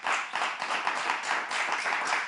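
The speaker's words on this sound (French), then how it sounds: "On va applaudir et acclamer" An audience at a French-language event claps and cheers as guests are called to join the stage. A dense, fairly faint patter of many hands continues without pause.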